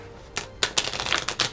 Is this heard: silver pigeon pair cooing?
no